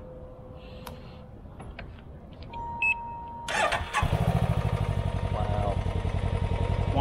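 A Can-Am Ryker's engine cranks partway through after a few small beeps and clicks, catches, and settles into a steady, loud, close rumbling idle. A voice gives a brief exclamation.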